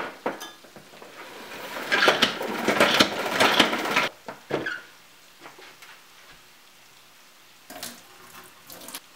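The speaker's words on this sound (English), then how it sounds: "once you have your clean greens in your salad spinner, oh yeah, this is a salad spinner, then you spin it dry" Salad spinner spinning clean washed greens dry, a loud rattling whir that builds for a few seconds and stops abruptly, followed by a few lighter clicks and knocks, close up with no speech.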